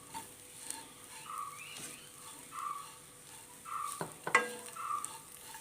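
Spice powders with coriander powder being sautéed in a pan, soft intermittent sizzling with scraping stirs and a couple of sharper clinks of a spoon against the pan, fairly quiet and close.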